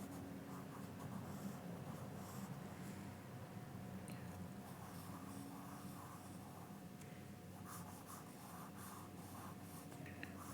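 A pencil makes rough sketch strokes on paper with a steady, close scratching and rubbing that runs without pause, with no voice over it.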